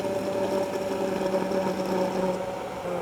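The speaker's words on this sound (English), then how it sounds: "The immersion blender makes super easy work of it." A handheld blender motor whirs in a steady, close mechanical drone with a constant pitch, running without pause and no voices.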